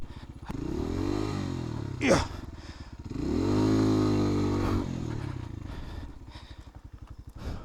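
A motorcycle engine revs on a slippery wooden path near Anzap Twin Falls in Mayantoc, Tarlac, rising and falling in close, loud surges with a scraping clatter, while voices talk over it.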